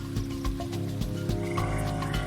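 Frogs croak in a Panama rainforest, a dense layered chorus of repeated low pulsing calls with steady tonal lines, continuous and fairly loud with no talking.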